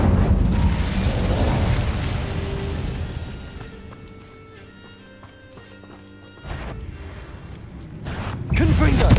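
A fire spell, Incendio, cast in the video game Hogwarts Legacy, heard as a loud whooshing, crackling burst that fades into quieter ringing tones before another sharp blast and rumble near the end.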